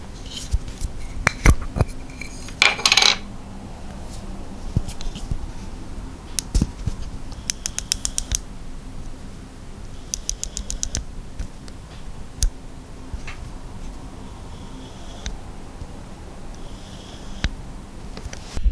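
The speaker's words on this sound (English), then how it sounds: "Has fully manual aperture, which you can switch to clicky or declicky" Several small clicks come from the metal aperture ring of a Laowa 15mm manual wide-angle lens as it turns through its detents. They arrive in short, quiet bursts close to the listener, with a faint hum behind them.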